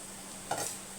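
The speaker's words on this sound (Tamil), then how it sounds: "சேப்பங்கிழங்கு ரோஸ்ட் ஆகுது." Taro root roasting in a pan: a soft stirring scrape through a faint steady sizzle, one brief movement of the spoon, close and quiet with no talking.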